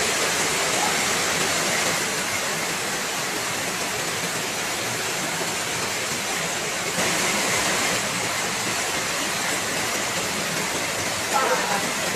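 Floodwater from an overflowing river in Batang, Indonesia, after six hours of heavy rain produces a loud, steady, unbroken rushing roar that fills the whole scene without letting up.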